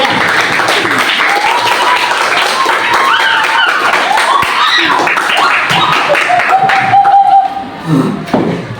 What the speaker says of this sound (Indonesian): Kita kasih aplaus untuk kelompok 5 ya.